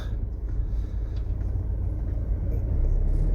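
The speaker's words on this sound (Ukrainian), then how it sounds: "І це спричиняє дуже великий затор в сторону лівого берега" Heavy, jammed city traffic heading toward the left bank, heard as a low, continuous rumble of car engines and tyres nearby, with no voices.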